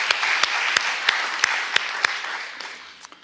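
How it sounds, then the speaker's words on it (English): Audience applause at a school event, a short burst of clapping with distinct individual claps standing out, fading toward the end. "Let's give them a round of applause."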